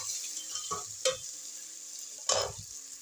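Beef pulao frying and being stirred in a pot: a steady sizzle runs throughout while a spoon scrapes and clinks against the metal several times, close and clear with no talking.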